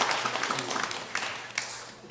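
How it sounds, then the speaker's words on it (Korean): A church congregation at a Sunday worship service bursts into brief applause, a loud wash of many hands clapping together over a couple of seconds. "여러분 더불어서 또 박수도 한번 쳐주는 주세요"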